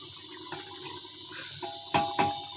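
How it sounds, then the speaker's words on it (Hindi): Ghee poured into cooked red beans in a pot gives a soft liquid trickle and gentle splashing, with two sharper splashes near the end, quiet and close. "तो साथ ही हम घी भी डाल देते हैं।"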